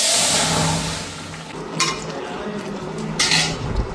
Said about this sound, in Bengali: এখন আমি মাছগুলি ঢেলে দেবো।